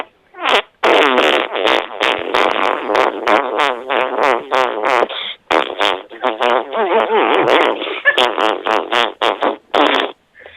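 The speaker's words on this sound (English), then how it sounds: "Let's try and fart a song." Several people make fart noises together on a radio show, trying to produce a song: a loud, close run of buzzing, wavering blasts that rise and fall in a rough tune, with brief gaps between phrases.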